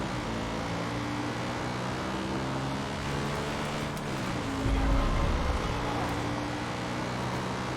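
Motorbike ridden in the Far Cry 5 video game, a continuous engine drone with shifting pitch and a brief louder rumble midway, steady and close.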